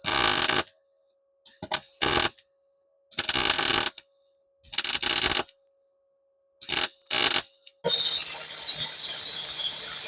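Welding a front frame rail on a 1966 Mustang, with too much heat burning holes: loud crackling bursts of arc welding that start and stop in short runs, separated by silence, then a steadier hiss to close.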